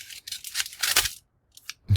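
Up close, scissors snip and slice along the top edge of a paper mail envelope in a quick series of crisp cuts, followed by a brief pause and a few faint rustles.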